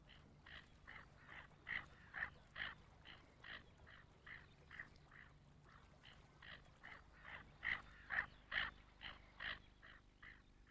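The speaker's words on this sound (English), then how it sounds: "Tufted ducks make various snorting noises." Tufted ducks give a rapid run of short snorting calls, each burst following closely on the last, quiet and somewhat distant against a soft background.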